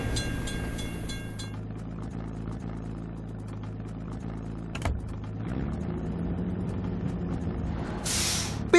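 A train rolls past a closed level crossing in a children's vehicle video game, a steady mechanical rumble with a sharp hiss near the end, playing loud and continuous with no voices.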